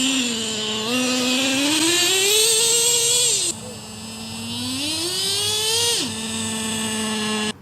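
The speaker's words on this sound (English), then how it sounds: "Now you can just get right on the throttle. You can only go up to half throttle though." A Traxxas T-Maxx nitro RC truck engine at half throttle during break-in gives a loud, buzzing whine that rises and falls in pitch over several throttle pulls, close and continuous.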